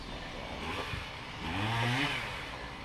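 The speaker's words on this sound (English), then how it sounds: "Oh, they started the chainsaw." A chainsaw runs near a workshop, its engine revving up in a rising whine that peaks and falls away, somewhat faint behind a steady background hiss.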